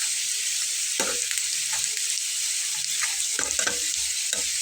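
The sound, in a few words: frying food in oil, sizzling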